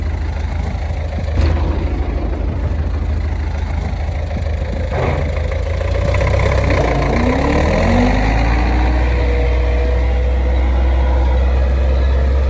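An MTZ-82 tractor pulling an AG-2.1-20 disc plough across wheat stubble, a loud, steady low engine drone with a rising pitch sweep partway through, close and continuous, no talking.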